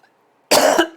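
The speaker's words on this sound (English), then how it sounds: "I gotta stop coughing." A single close, sharp allergy cough after a moment of near silence, with a second quick burst trailing at the end.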